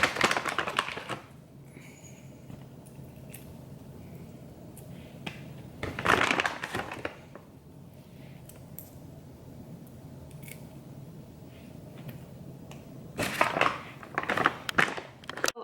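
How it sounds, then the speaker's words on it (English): Raw shrimp being cut for aguachile, heard as bursts of close crisp snips and crunchy slicing in three clusters, separated by quieter stretches of faint handling noise. "I believe that you have to cut the shrimp from this side too."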